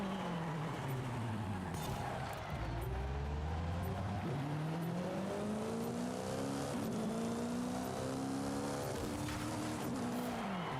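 Car engine in Forza Horizon 5 revs up repeatedly, rising pitch sweeps through the gears, loud and constant with tire noise underneath.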